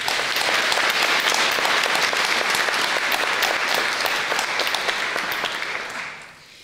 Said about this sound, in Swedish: jag föreslår att vi ger henne en rungande omgång applåder